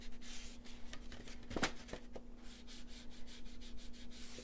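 An ink pad is rubbed along the paper edges of a file folder journal in soft, close, repeated scuffing strokes, quiet and rhythmic with one brief sharper scrape.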